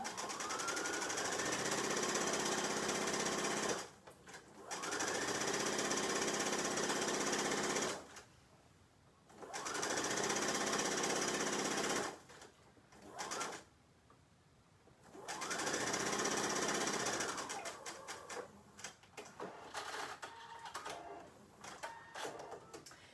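A sewing machine stitches the back seam of pajama pants in several long, steady runs that hum close and loud, separated by short pauses and ending in a few shorter, stuttering bursts.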